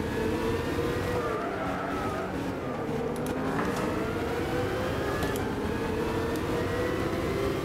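A race car engine in Gran Turismo 6, heard from the interior cockpit view, drones loudly and steadily with rising and falling revs and brief tire skid sounds, continuous throughout.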